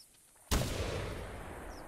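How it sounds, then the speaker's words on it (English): A single loud hunting rifle shot in theHunter cracks sharply after a quiet moment, then leaves a long, rumbling echo that fades slowly across open ground. "I shot one behind me too."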